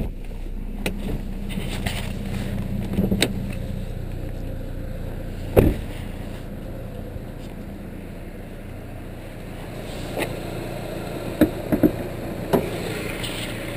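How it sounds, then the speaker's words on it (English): A supercharged four-cylinder engine in a Chevrolet Cobalt SS idles with a steady, smooth low hum, broken by a few faint clicks and knocks and no speech. "the supercharged four-cylinder runs smooth and quiet"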